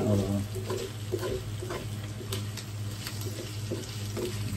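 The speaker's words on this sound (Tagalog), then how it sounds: "Haluin lang natin para lalo siya magmantika." Steady sizzling of food frying in oil, with a utensil scraping and stirring in the pan at irregular intervals.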